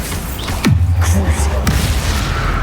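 Bombarda blasting spell going off in the Hogwarts Legacy video game: a loud, sharp whooshing cast that drops into a deep, booming explosion and lingering rumble, with a second thump shortly after, amid game effects.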